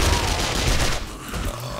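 Rapid bursts of gunfire from the survival game 7 Days to Die, dense and loud for about a second before thinning into lower rumbling, with no talk over it.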